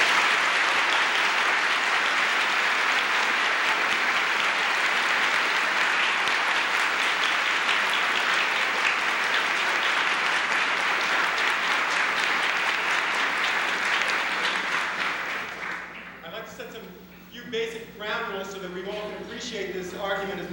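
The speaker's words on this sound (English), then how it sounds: "I think they deserve a large round of applause." A courtroom audience at a 1977 moot court competition applauds in a long, sustained round of dense clapping, which fades after about fifteen seconds as a voice begins speaking.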